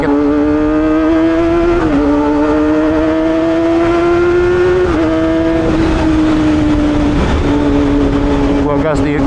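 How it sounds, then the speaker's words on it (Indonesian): A car engine revs lightly with a steady drone that rises and dips in pitch several times, loud and close, with wind noise around it and a voice speaking briefly over it. "Coba gue gas dikit."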